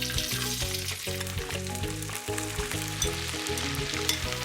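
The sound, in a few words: leftover rice, kale and shallot frying in oil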